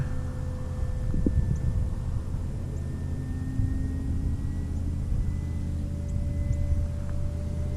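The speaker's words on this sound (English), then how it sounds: "Nice scaled takeoff there." A Cessna airplane climbs away after a scaled takeoff, a steady droning engine hum with a rumbling low end and a faint whining tone holding throughout, moderately loud and unbroken.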